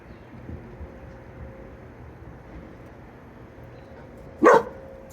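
A single sharp dog bark near the end, loud and close, after several seconds of quiet low background noise.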